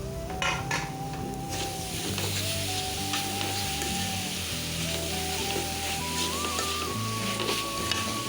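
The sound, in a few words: grated coconut sizzling as it is cooked in a pan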